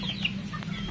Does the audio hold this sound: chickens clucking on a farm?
yes